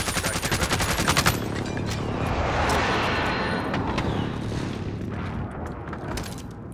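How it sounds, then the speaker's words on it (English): Call of Duty combat opens with a rapid burst of machine-gun fire, then rolling airstrike explosions boom and rumble loudly, with scattered shots and distant blasts trailing off as the echo fades. "Don't worry, the airstrike is mine."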